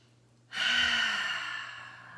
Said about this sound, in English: take 3 deep cleansing breaths in through the nose and out through the mouth